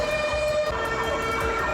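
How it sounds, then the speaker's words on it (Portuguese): A siren wails at night in memory of a nightclub fire, its steady sustained tone carrying continuously and fairly loud with no voices. "Nessa madrugada, uma sirene quebrou o silêncio."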